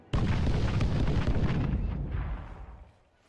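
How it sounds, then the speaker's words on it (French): A big anime explosion of explosive clay from Naruto Shippuden erupts suddenly as a loud, deep boom, then rumbles on and slowly fades over a few seconds. "Non! Explosion!"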